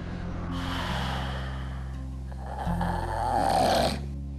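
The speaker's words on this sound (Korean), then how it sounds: "코를 골고 코로 숨을 쉬기 어려워 입으로 숨을 쉰다" Heavy, rasping snores close by from a sleeper with a blocked nose breathing through the mouth, two long rattling breaths in a row, deep and rough with a throaty drone.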